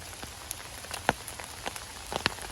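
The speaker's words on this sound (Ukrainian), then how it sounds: "Дощ, дощ, друзі, не то що зупинятися навіть не думає." Steady rain patters on leaves and the forest floor, with scattered close drops snapping sharply over a soft continuous hiss; no voices.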